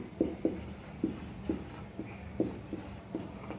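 A pen scratches on paper during a class 9 maths worksheet, in about nine short close strokes and taps at an uneven pace, with no voice over it.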